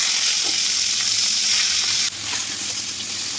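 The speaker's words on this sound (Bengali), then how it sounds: "পালং শাকটা ভালো করে ভাজা ভাজা হয়ে গেছে" Spinach frying in oil with crushed garlic and dried red chilli, giving a loud, continuous sizzle with faint stirring. The sizzle drops slightly in level partway through.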